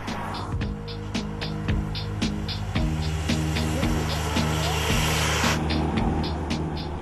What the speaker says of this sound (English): The motor growls like the true-blood sports car it is.